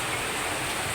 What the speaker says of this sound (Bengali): তো দেখেন কীরকম বৃষ্টি, আমি আপনাদের সামনে এটাই দেখাচ্ছি,